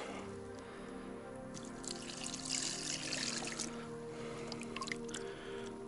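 Water pours into a pot of fish soup cooking outdoors, a soft, steady splashing trickle up close that swells in the middle, with no talking over it.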